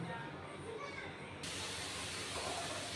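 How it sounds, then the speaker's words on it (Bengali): Tap water runs and splashes steadily while cut shrimp are rinsed in a home kitchen, a constant hiss that grows brighter and stronger halfway through. "মাছগুলো কাটা হয়ে গেছে, ধুয়ে নিই এখন সুন্দর করে।"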